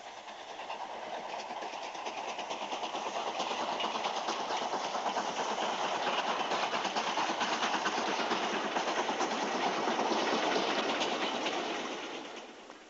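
A steam locomotive labours uphill toward Masbury summit, eight miles of climb from Radstock. It makes a loud, steady, close rumble with a continuous chuffing roar that holds throughout and fades slightly at the end. No voices are heard.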